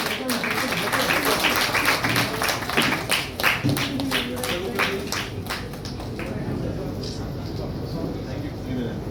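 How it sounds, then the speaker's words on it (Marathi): Applause at a Marathi movie trailer and music launch in Mumbai, a burst of crowd clapping that rises and then thins out, mixed with voices talking throughout. "आणि जोरदार टाळ्या होऊन जाऊ"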